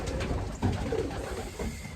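Low, rolling coos come from young racing pigeons in a loft. Several soft calls overlap with faint shuffling, close by and fairly quiet.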